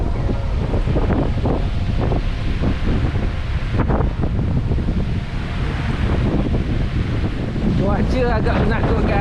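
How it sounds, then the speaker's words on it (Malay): Stormy wind buffets the microphone with steady roaring gusts, with rough sea waves breaking at a flooded beachfront campsite in Port Dickson, loud and continuous throughout, with faint voices partly underneath. "Ribut, tengok ombak ni."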